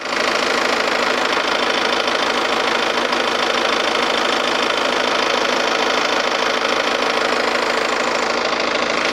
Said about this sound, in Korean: 우선 엔진 소리 먼저 한번 들려드릴게요